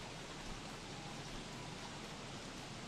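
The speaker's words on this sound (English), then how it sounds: "Rain, rain, go away." Rain in the survival video game Don't Starve: Reign of Giants forms a uniform, soft, broadband hiss that stays constant and unbroken, with no voices over it.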